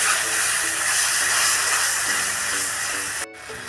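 Water poured into frying turmeric masala in a pan sets off a loud, dense, continuous hiss that drops away abruptly near the end before sizzling resumes more softly.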